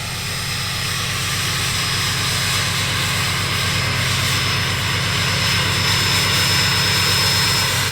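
Cummins diesel truck with compound turbos on a cold start, a loud, steady, jet-like whine and roar over a low pulsing engine rumble that builds slightly throughout, with no talking.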